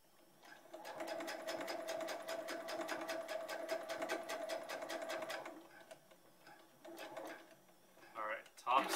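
A sewing machine top stitching the collar of a long sleeve shirt runs in a steady, fast mechanical rattle for about five seconds, then stops, followed by some handling clatter close by.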